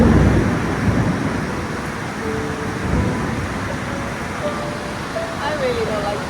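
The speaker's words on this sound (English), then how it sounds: "It's coming, the thunder's coming." Thunder rumbles low and continuous during the season's first heavy rain in Laos, a broad loud rolling wash that gradually fades, with faint tonal sounds near the end.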